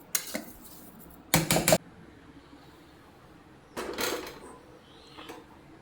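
Sugar is stirred into cooked dal for puran in a metal pot, which is then set back on a gas stove: two short bursts of clattering metal scraping and knocking, with quiet pauses between and no voices.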